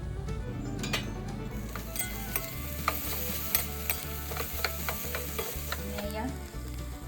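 Peda is stirred into a green coconut barfi mixture in a pan: a spoon scrapes in a steady rhythm with a soft sizzle and occasional clinks against the pan, close up, with no talking.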